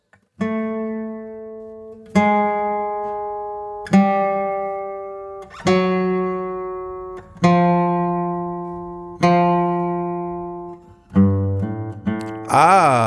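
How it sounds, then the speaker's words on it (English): Slow, separate plucked notes of the descending chromatic bass line from a song intro, each ringing out and fading before the next, ending in a quick flurry of higher notes; clear, close and unaccompanied. "the bass line at the beginning sounds like this"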